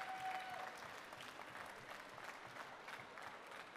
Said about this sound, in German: Ein großer Applaus, nicht klein.